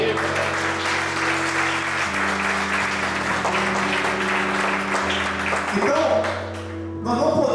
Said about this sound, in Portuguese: Você pode aplaudir o Senhor bem forte por isso, velho?